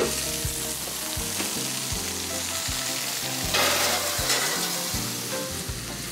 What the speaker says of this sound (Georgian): აი ესე შევწვათ ჩვენი სოკო.